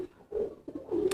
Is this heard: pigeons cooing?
yes